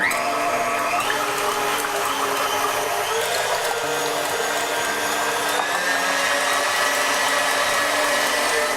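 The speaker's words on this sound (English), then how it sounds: "start mixing the meringue, and I'm going to take the egg whites first, start it on a nice even speed" An electric mixer whisks egg whites for a pavlova meringue at an even speed, giving a continuous, loud motorized whir with a shifting tone and no pauses.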